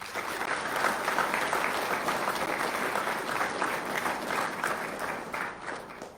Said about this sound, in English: So let's please give a big round of applause for all the staff here at Laughlin Air Force Base.